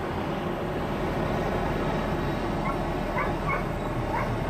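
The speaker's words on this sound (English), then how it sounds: "Oh no, it is a canine." A police canine barks from inside an SUV or truck at a street protest in Los Angeles, several short yips rising faintly over a steady, loud roar of traffic and crowd noise.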